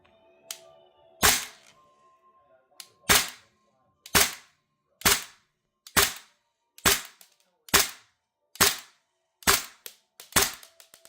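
Eleven or so sharp single shots from a Noveske airsoft gas rifle ring out one at a time through a chronograph, spaced roughly a second apart, each a crisp snap with a short decay in a quiet room.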